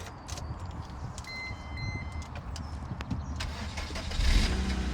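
A car engine is cranked with a key, with faint clicks and rattles before the motor catches and fires up near the end.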